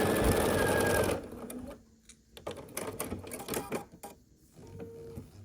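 A sewing machine stitches a scrappy granny-square quilt block in a fast, steady burst, then stops, followed by softer intermittent mechanical clicks and short stitching runs.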